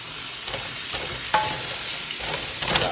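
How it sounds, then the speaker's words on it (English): Lentils with seasoning sauté in a pan, a continuous mid-level sizzle broken by a few spoon-against-pan scrapes and taps, with no voices. "I want this to saute for a couple of minutes."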